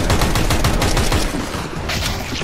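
Rapid, loud gunfire from a multiplayer shooter video game crackles in dense bursts at close range, with overlapping shots filling the whole moment.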